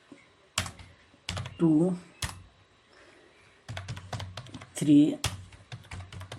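Typing on a computer keyboard while writing in MS Word: a few quick clusters of close key taps, separated by pauses, interleaved with someone speaking.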